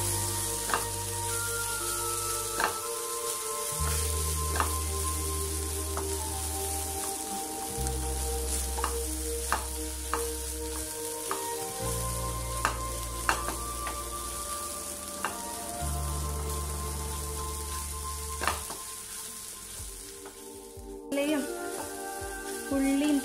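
Spice powders are stirred into onion and tomato frying in a pan for an egg chilli, with a steady sizzle and intermittent scrapes and taps of the spoon, while low background tones hum underneath.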